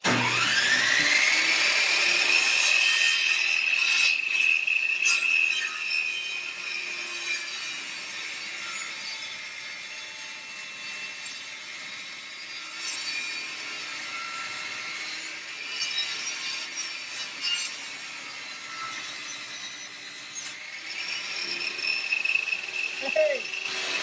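A chainsaw revs up loud and high-pitched, then settles into a steady grinding cut through a Tyent water ionizer casing, rising again near the end.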